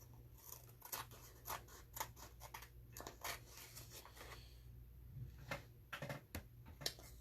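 Scissors cutting make quiet, close snips and paper rustles in irregular bursts, with no talking.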